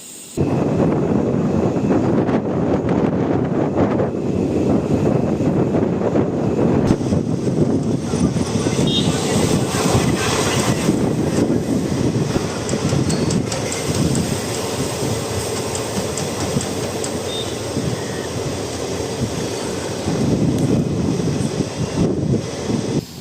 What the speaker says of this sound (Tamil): நம்ம ட்ரெயின் கிளம்ப வேண்டியதான் இங்கேருந்து